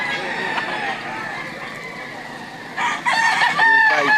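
Fighting roosters for sale at a gamefowl market in Lipa, Batangas crow amid steady crowd murmur and background bustle, one crow rising clearly near the end over the din while people talk nearby.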